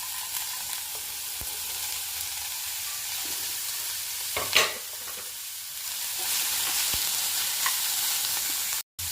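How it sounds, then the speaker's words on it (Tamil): Finely chopped capsicum frying in a pan with onion, curry leaves and garlic, a steady close sizzle with stirring scrapes and a brief louder burst midway. "இப்போ பொடிசாக நறுக்கி வச்ச கேப்சிகம் போட்டுக்கோங்க."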